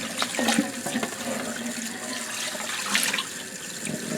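Water runs steadily from a kitchen tap as raw pork and rice are rinsed in a sink, a continuous splashing wash with brief louder gushes and clatters near the start and again toward the end.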